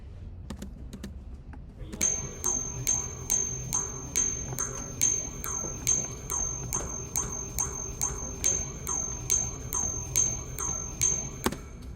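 A looped ding sample with the bass turned down and a phaser added repeats in a steady, even rhythm of bright, chiming hits over a low, murky wash, starting after a short quiet lead-in.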